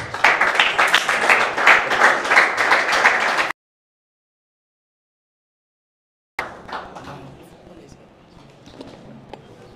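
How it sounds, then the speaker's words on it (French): Loud studio audience applause rings out steadily at a French children's eloquence TV contest as quarter-final results are about to be announced, then cuts to silence before fainter, sparser clapping returns. "On l'acclame très fort."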